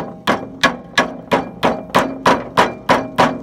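Hammer blows drive a wheel belt onto the wheel of a Timberking 1220 sawmill: nine sharp, evenly spaced metallic whacks, loud and close, each ringing briefly before the next strike.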